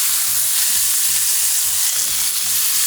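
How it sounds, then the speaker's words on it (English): A rump roast sears in a hot pan, a steady, close sizzle and spatter with light scraping and stirring textures, no voices. "Sear the sides of it."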